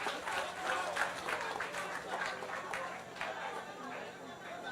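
Audience applause at a Roseau South town hall meeting, a steady wash of many hands clapping with crowd chatter mixed in, sustained at even loudness throughout.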